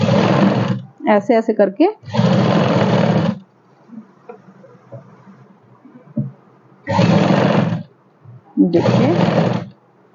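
A sewing machine stitches a fabric strip onto a ladies' suit in loud, dense bursts, pausing between runs while someone talks over the quieter stretches.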